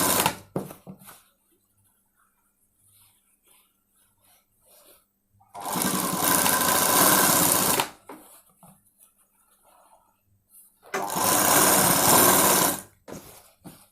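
A sewing machine stitching a school uniform coat along a folded edge about half an inch wide runs in two loud bursts of rapid whirring, separated by quiet pauses with faint handling noises.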